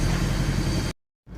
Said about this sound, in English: if you can hear me over the sound of the engine, sounds like a tractor